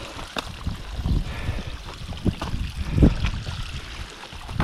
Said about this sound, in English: This is the trail we're on, which is now a river